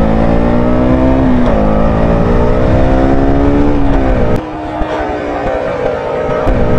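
Suzuki Burgman Street EX 125 maxi scooter held at high RPM with a slipping clutch, giving a loud, steady engine drone whose pitch climbs and sags, then drops abruptly partway through before settling into a rougher hum.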